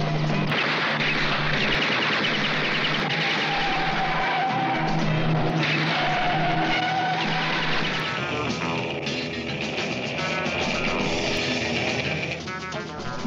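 Sports cars racing with loud, sustained tire squeals and skidding over revving engines, continuous and close, trailing off slightly at the end.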